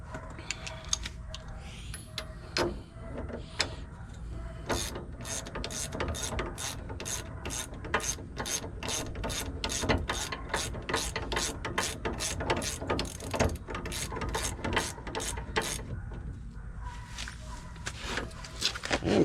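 A ratchet turns an 18 mm socket on a GoWesty rear disc brake kit for a 1974 Volkswagen Westfalia, making a long run of even, fairly quiet clicks close by with brief pauses.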